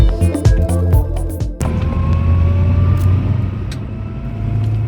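Road traffic gives a continuous low rumble with faint passing-vehicle noise, after a few brief tonal sounds at the start.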